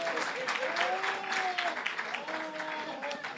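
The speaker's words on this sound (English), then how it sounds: "Why are you applauding this?" Live podcast audience applauding, a moderate continuous patter of clapping heard from a short distance, with someone talking over it.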